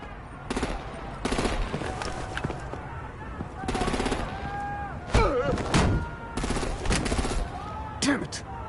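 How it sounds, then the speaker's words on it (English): Batman video game combat: rapid machine-gun bursts and heavy gunfire volleys in repeated clusters, loud and close, with intermittent shouted voices and explosive thumps between. "Break out the artillery and disable their vehicles!"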